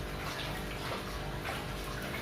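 Aquarium filter running while an aquarium is cleaned, giving a steady, fairly loud water rush with gurgling and trickling that holds constant throughout, with no voices.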